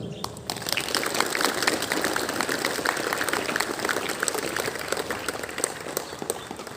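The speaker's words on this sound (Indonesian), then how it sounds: "Ya, tepuk tangan dulu." Students at a school Heroes' Day ceremony clap together in a continuous, moderately loud patter of many hands, heard from within the crowd.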